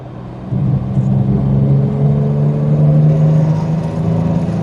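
A Ford Capri 2.8 Injection's engine revs up through an unnecessary downshift, a loud, close, steady engine drone with a rising pitch, heard from inside the car without talking.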